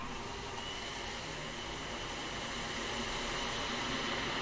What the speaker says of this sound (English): I wake up to the sounds of a distant vacuum cleaner,